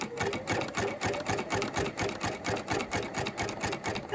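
A sewing machine stitches fabric strips onto rope for an Easter basket, running in a steady rapid chatter with a regular pulsing rhythm, close and continuous with no talking.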